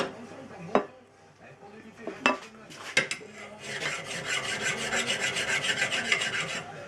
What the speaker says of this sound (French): il vaut mieux passer un coup de lime dessus